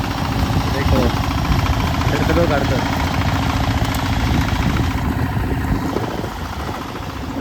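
A tractor engine runs on a Konkan farm, a steady low droning hum that continues throughout while a person talks over it nearby.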